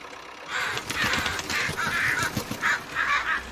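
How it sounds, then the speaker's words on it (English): Crows caw repeatedly over farmland where a tractor is drilling, harsh calls in uneven bursts, fairly close and loud above low engine rumble. "Noisy old crows out on the land again."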